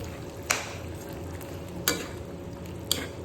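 Adobo with chilli is stirred in a frying pan: a low, steady sizzle underneath, broken by three sharp scrapes or clinks of the utensil against the pan at irregular intervals, close by.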